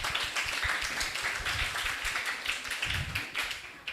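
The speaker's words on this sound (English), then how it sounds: "let's give a warm round of applause to energize our sessions today" Applause from a seminar-room audience, a dense, steady wash of many hands clapping at moderate distance that holds evenly from start to finish, with no voices over it.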